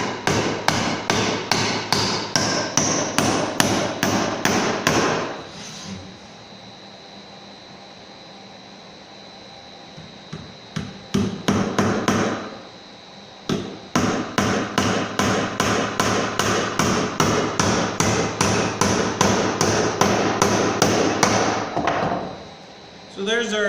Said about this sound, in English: You can drive nails without the holes already drilled in just fine.